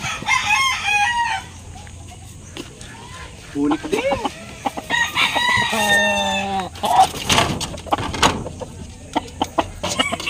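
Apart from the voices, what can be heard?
roosters crowing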